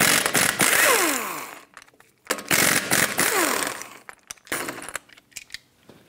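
Impact wrench spinning off lug nuts on a 2012-2020 Ford Focus front wheel with a 19 mm socket: loud rattling bursts with whining spin-down, a few separate runs with short pauses and small metallic clinks between them.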